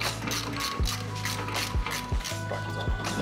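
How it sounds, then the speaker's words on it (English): Bolts being threaded by hand onto the sprocket rotor of a Battle Aero drift kart rear axle, giving repeated metallic ratcheting clicks in a steady rhythm with four sharp low knocks, close and moderately loud. "you're going to fully thread in all six of the bolts onto the sprocket rotor"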